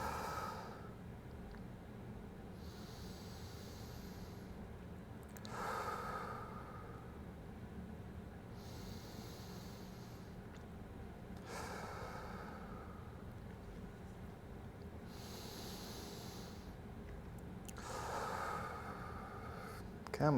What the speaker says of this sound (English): I just breathe into that new range of motion. So I'm just going to go 10 breaths.